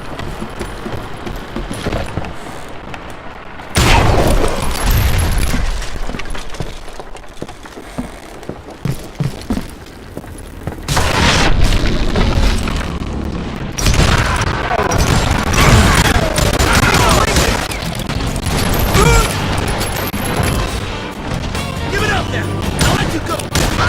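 Dynamite explosions and gunfire in the Call of Juarez: Gunslinger video game come as loud booming, crashing bursts with rumbling debris between quieter stretches, and voices speak at times.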